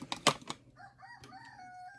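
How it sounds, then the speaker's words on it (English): A few clicking taps come first, then a rooster crows, its drawn-out call rising and wavering, fairly faint and somewhat distant. "oh, there's one rooster."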